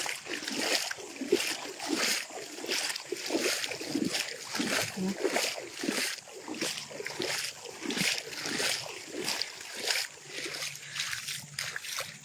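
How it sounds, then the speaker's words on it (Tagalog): Choppy water on an outing near the shore splashes and laps in repeated rhythmic surges, close and steady throughout, with no talk. "medyo magaspang yung tubig"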